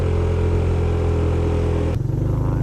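A motorcycle carrying three people labours up a long uphill mountain road, its engine droning steadily and loudly up close, with a sudden shift in tone near the end.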